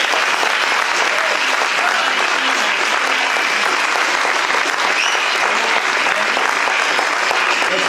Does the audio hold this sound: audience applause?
yes